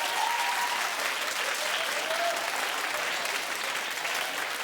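A television talk show studio audience claps in a dense, steady burst of applause that lasts throughout.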